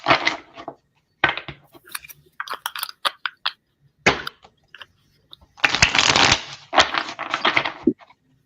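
A deck of reading cards being shuffled by hand, with repeated bursts of riffling and flapping card noise, close and fairly loud, separated by short pauses and a longer final run of shuffles.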